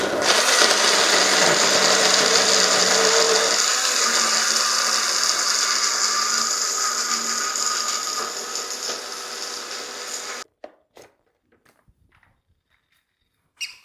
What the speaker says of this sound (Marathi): अभी डाल दिया अपने ग्राइंडर पे, बटन चालू है.